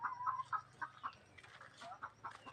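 Chickens on a farm cluck in a quick run of short, close clucks, followed by softer, scattered fowl calls and faint background noise.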